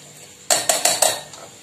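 Boiled tomatoes, drained of their cooking water with the bay leaf removed, being tipped into a steel mixer grinder jar for hotel-style tomato soup: four quick, sharp clinks and knocks close up, with no talk.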